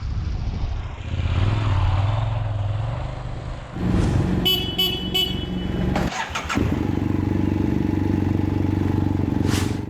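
A KTM 1050 Adventure litre-class motorcycle engine runs loud and steady throughout, its low rumble shifting in pitch as revs change, with a brief dip and a few sharp horn-like bursts partway through.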